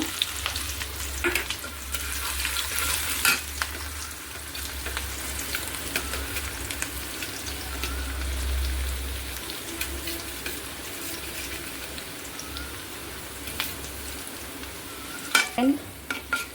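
Onion, garlic and dried red chilli fry in hot oil for a dal tempering, a steady broad sizzle running throughout with occasional stirring scrapes and clinks, close and fairly loud, with no talking.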